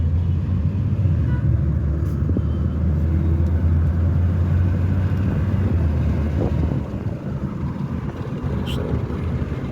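Inside an Uber taxi riding through Hurghada toward the marina, a steady low engine and road rumble with wind noise fills the cabin throughout, easing slightly near the end.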